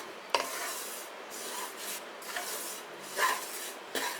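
Rice flour being stirred and dry-fried in a pan for Kerala poorapodi (avalose podi), with soft, close scraping and rubbing strokes repeating unevenly, faint and without talk.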